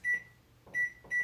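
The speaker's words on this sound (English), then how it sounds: "I'm going to put these in the microwave for 2 minutes on medium." A microwave oven beeps three times as it is set, short clean electronic tones with a pause before the last two, which come close together, heard up close in a quiet home kitchen.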